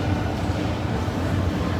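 A steady low rumble and rattle of a moving train, continuous and fairly loud throughout, with no talk.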